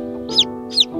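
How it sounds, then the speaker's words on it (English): Newly hatched Silkie Frizzle chicks give two sharp, high peeps about half a second apart, close up over a steady background hum. "we finally got our four Silkie Frizzle chicks"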